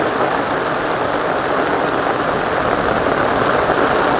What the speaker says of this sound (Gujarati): એ અતિશયમાં અતિશય વરસાદ છે.